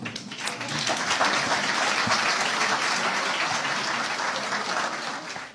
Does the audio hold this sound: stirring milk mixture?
no